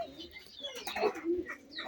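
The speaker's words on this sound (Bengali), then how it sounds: "সবগুলো কবুতর কিন্তু কাছাকাছি আসতেছে" Pigeons gathering close together coo softly with a few chirps, faint and intermittent in a short moment with no talking.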